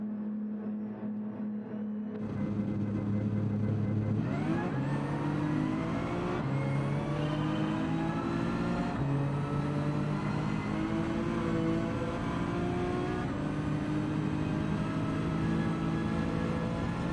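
Race car engines in Gran Turismo 7, a steady loud roar that climbs in pitch through repeated gear shifts, accelerating continuously with no talk over it.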